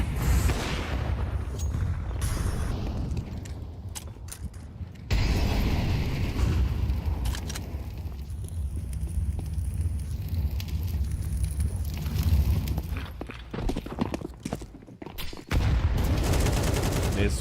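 Counter-Strike gunfire during an IEM Chengdu 2025 esports match crackles in dense, sustained bursts and scattered shots, loud and close, running almost unbroken through the stretch.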